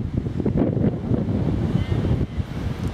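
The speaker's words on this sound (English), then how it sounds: "Wind's picking up, hope it doesn't signify range soon." Steady gusting wind buffets the microphone on a countryside walk along the North Downs Way between Sandling and Wye, a loud continuous rumble with no voices.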